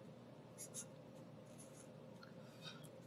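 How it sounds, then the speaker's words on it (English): Writing on a board during a structural geology lecture: faint, scratchy strokes come in a few short bursts over a steady background of room noise. "let me just go ahead and write in BY here"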